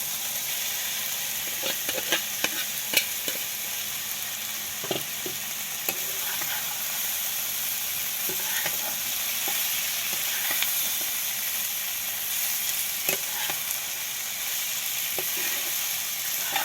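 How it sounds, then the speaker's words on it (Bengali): Fenugreek greens stir-fried with fried potato and eggplant in a pan give a constant hissing sizzle, with occasional light scrapes and taps of a spatula throughout. "আলু আর বেগুন আর শাকটা ভালো করে মিশিয়ে নিয়েছি"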